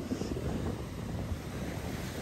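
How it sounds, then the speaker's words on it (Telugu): Ocean waves at a black sand beach in Hawaii make a steady, low rushing wash, fairly faint and mixed with wind noise on the microphone, with no voices. "చాలా వేవీ ఉంది అసలు."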